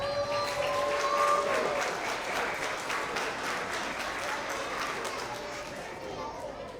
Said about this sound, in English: another round of applause for our TK and Kinder Roaring Readers